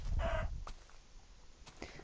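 A chicken in modded Minecraft gives a few faint, short clucks spread across about two seconds, quiet and heard without talk.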